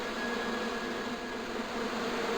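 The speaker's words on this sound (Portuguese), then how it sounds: "as abelhas foram atrás do cara" A swarm of bees buzzes in the video game Broken Sword: The Smoking Mirror as a steady, dense hum with no talking, fairly faint and continuous throughout.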